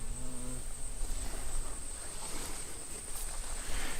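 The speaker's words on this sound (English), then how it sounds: "See lots and lots of bees." Bees buzz steadily around plants in a summer vegetable and herb garden with bean plants and basil, a close, continuous insect hum that runs through the whole stretch with no talking.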